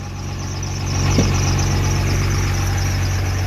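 A 12-valve diesel engine with an S300 turbo in a Dodge Dakota idles with a steady low rumble, then revs up briefly around the one-second mark and holds a louder, rougher drone, with a fueling problem.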